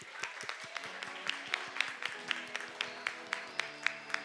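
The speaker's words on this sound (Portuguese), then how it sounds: "Você pode aplaudir ao Senhor?" A church congregation claps along in praise during a worship service, in a steady rhythmic beat of even claps, with faint sustained music tones underneath.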